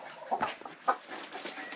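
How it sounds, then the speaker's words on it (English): Chickens on a farm cluck in short bursts, two or three near calls standing out over a soft bed of background fowl noise. "All the chickens are in the shade, checking out the dogs."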